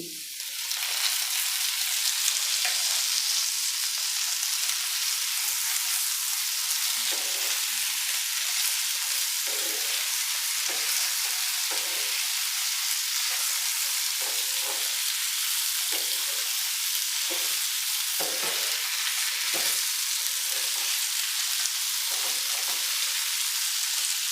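Round-cut tomato slices frying with potatoes in a hot pan, a steady loud sizzle running throughout with occasional stirring scrapes, no voices.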